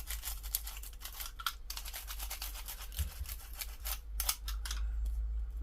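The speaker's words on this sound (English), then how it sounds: "with my little doofer machine I'm going to poke all the" A small poking tool and brush clear cutouts from a die-cut paper piece, making rapid scratchy brushing and tapping strokes in close bursts over a low steady hum.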